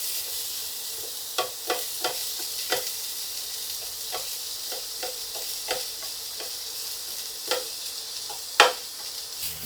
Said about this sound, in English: As I'm stir frying these,